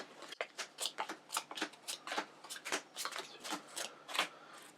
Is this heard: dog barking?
no